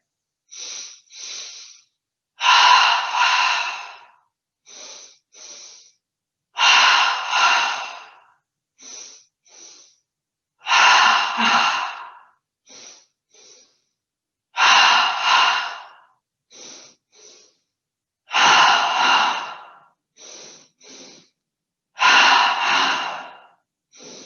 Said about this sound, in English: 10 double breaths, breathing into the belly, starting with the inhale through the nose twice